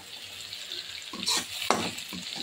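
Raw tempering spices dropped into a hot pan, a low sizzle that jumps into a few sharp crackling bursts and scrapes as they hit the oil, close and moderately loud.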